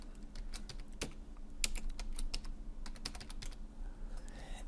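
Quick, light keystrokes on a computer keyboard while a block name is typed into software, irregular clicks close up in a quiet room, with no talking.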